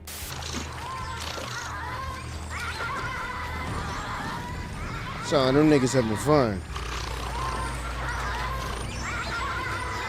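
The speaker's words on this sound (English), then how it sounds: "Imagine not knowing what river otters are and hearing that for the first time" River otters give a burst of loud, wavering squealing calls that rise and fall for about a second, with faint animal noises before and after, while someone talks over the scene.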